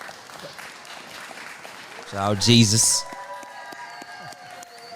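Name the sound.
crowd applauding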